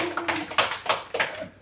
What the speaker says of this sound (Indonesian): Jadi kasih tepuk tangan dulu